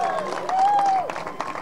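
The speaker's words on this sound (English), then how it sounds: "Big round of applause there for Charlie" Applause and crowd noise for a kart racer stepping onto the podium as second-place finisher at a British Mini Max championship event, a continuous moderate clatter of clapping with a steady tone running through it.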